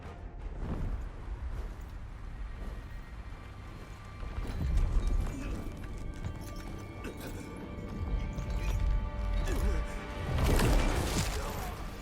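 Horse hooves clip-clop in the video game The First Berserker: Khazan, with steady footfalls and a louder burst of clattering near the end under game noise.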